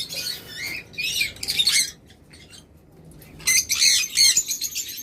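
A pair of green pet birds offered for sale squawks and chirps in loud, close bursts, with two clusters of harsh calls separated by a quieter gap.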